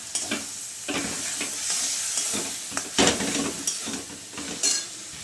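Cumin, coriander and Kashmiri chilli powder paste sizzles in a pan while being stirred firmly, with repeated scraping strokes and light metal clinks over a steady frying hiss.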